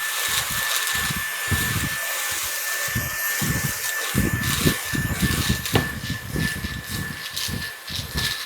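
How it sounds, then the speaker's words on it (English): A vacuum cleaner sucks dust and dog hair from an air purifier pre-filter, a steady whine with rhythmic surges as the nozzle passes over the filter. "I grab my vacuum and I clean all this out"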